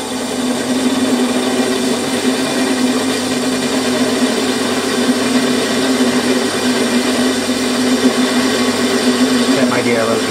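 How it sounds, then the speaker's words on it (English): A metal lathe takes a fine facing cut in a home shed, giving a steady, loud motor whine with a continuous grinding cutting tone that holds without a break. "Taking about a 3mm cut here across the face, but with a very fine hand tee."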